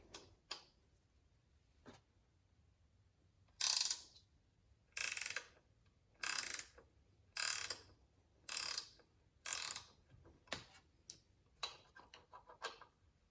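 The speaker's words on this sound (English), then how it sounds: "Now we're going to do an old school gear wrench." Old-school gear ratcheting wrench clicking in a run of about seven short, loud bursts of rapid ratchet clicks, each roughly half a second long, with fainter single ticks before and after and no talk.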